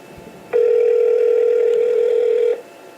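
One long, steady electronic tone sounds for about two seconds on a phone call to a McDonald's, close and loud over quiet background, then cuts off cleanly.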